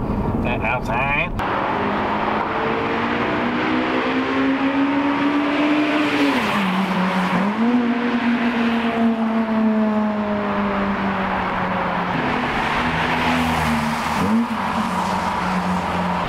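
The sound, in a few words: car with new exhaust backbox driving past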